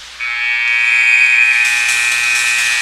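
Arena buzzer ending the first period of a U18 Major preseason hockey game, a loud sustained electronic tone that starts abruptly and holds for nearly three seconds, with faint crowd noise beneath.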